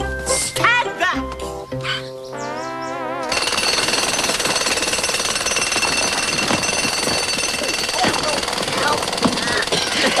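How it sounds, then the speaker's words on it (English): A voice speaks briefly, then a loud jackhammer starts pounding in a continuous rapid rattle, close and harsh, running steadily to the end. "Now the Royal Jackhammer."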